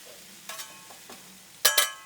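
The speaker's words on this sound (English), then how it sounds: "Just mix them around a little bit, get them coated in that bacon grease a little bit." Potatoes stirred on a Blackstone griddle in bacon grease, with a soft sizzle under a few short scraping strokes of a spatula, the last two louder and close.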